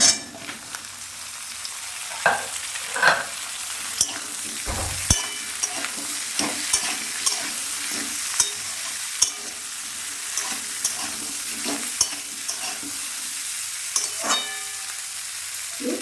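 Eggplant, potato, beans and slit green chillies frying in a pan with onion and ginger are stirred, giving repeated scraping knocks over a steady low sizzle, close and alone.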